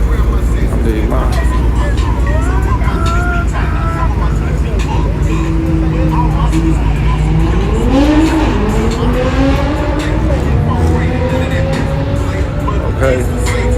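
Car tires spin and squeal during a reverse launch at a drag strip while an engine roars loudly and steadily throughout, with rising whines and people talking over it.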